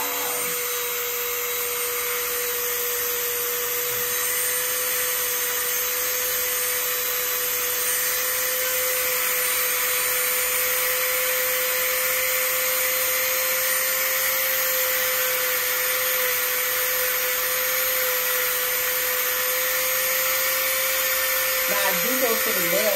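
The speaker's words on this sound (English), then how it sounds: "That's what's next, it's the grinder." Electric nail grinder buzzes with a steady high-pitched whine throughout, running continuously at an even level with a faint shift near the end.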